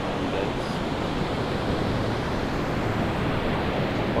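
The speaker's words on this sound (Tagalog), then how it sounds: "napakaganda po ng dagat ngayon. Oo, medyo maalon at bagay po yan sa mga nagsusurf." Ocean surf rolls in at a surf beach during a surfing competition, a loud, continuous wash of breaking waves and rushing water with wind noise on the microphone.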